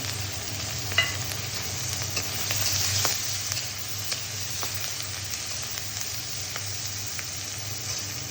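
Onion and garlic fry in hot oil in a wok for a Bengali crab curry, giving a steady close broadband sizzle with a few utensil clicks and no voices.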